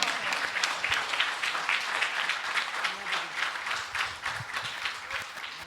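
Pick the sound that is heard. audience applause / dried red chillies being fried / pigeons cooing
audience applause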